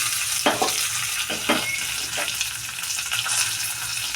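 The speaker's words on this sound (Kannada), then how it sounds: "ಒಗ್ಗರಣೆ ಆಗಿದೆ" Steady hot-oil sizzling of spices tempering in a pan for mango tambuli, loud and close, with a few brief stirring scrapes and pops, no voices.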